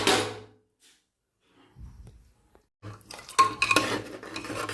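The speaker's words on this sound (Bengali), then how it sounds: "ঢাকাটা খুলছি" A metal pot lid comes off a pot of cooking mutton: a short clatter, a quiet pause, then a louder burst of metallic clinks and rattles over a faint hiss from the pot.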